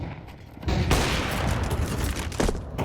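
Gunfire bursts in a Counter-Strike match on the Mirage map, a steady dense volley that swells after a quieter opening and keeps going to the end, close and loud.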